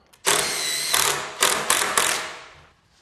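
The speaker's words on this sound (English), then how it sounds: "So now we glue and screw the sides to the sill." A power driver whirs in several short bursts, sinking pocket screws into PVC trim to join the sides to a sill, each run starting sharply and then tapering off.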